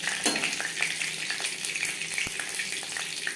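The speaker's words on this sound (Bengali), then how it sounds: "পরিমাণ মতো রিফাইন্ড অয়েল গরম করে নিয়েছি দিয়ে দিলাম পাঁচ ফোড়ন তেজপাতা" Panch phoron and bay leaf frying in hot refined oil for a cauliflower curry, a soft continuous sizzle with small crackles, close and moderately quiet.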